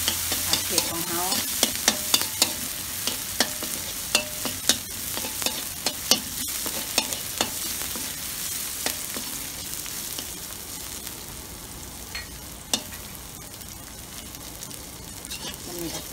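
Garlic and shallots stir-frying in oil for a spicy pork neck stir-fry, with a steady sizzle broken by repeated sharp scrapes and clacks of a spatula against the pan, close and fairly loud throughout.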